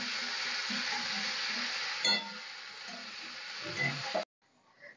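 Ginger and green chili paste sizzles steadily in hot oil in a pan, a continuous close frying hiss with a few soft stirring scrapes, ending abruptly with a brief clatter.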